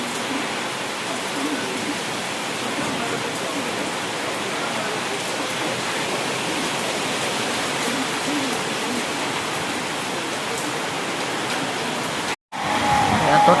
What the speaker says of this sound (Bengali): অসময়ে বৃষ্টি হচ্ছে। এই যে ঝড়